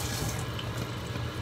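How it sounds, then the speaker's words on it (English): Tap water runs steadily into a bowl being rinsed at a catering prep sink, a continuous close splashing hiss with no talking. "We're gonna rinse our bowl here."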